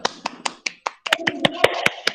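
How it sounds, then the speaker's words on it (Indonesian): A classroom of students claps hands during a teaching practice lesson, a series of sharp separate claps that thicken into a busier patter with voices mixed in. "Oke, tepuk tangan dulu yuk."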